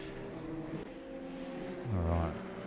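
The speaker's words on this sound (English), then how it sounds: "We're getting hearing those tyres squeal a wee bit." Race car tyres squeal in a racing video game at the Red Bull Ring, set against a steady droning engine note that swells and bends in pitch briefly near the end, loud and continuous throughout.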